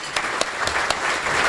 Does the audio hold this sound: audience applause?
yes